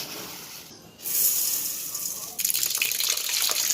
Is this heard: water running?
yes